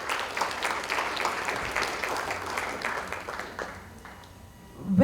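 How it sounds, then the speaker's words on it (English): An audience gives a round of applause at a charity foundation event: dense, steady clapping from a crowd that thins and fades out over the last second. "we need to give ourselves a round of applause"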